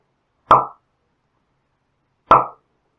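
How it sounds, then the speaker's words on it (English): A silicone part pops off an Atari 2600 joystick used as a suction cup: two separate sharp, close plops about two seconds apart, each with a brief soft tail, with silence around them. "you can pop the actual silicone part out, and you can use it as a suction cup"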